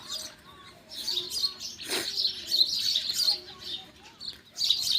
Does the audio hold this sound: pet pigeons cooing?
yes